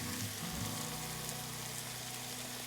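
Chopped garlic, five or six cloves, hitting a pan of browned onions for pot roast, giving a steady, continuous sizzle and crackle with a brief low bump near the start.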